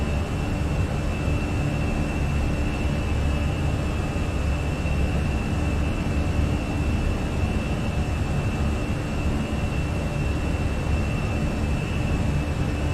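Fenix A320 airliner engines spooling at climb thrust in Microsoft Flight Simulator, a steady, loud broadband roar with a faint whine above it that holds unchanged throughout, with no voices.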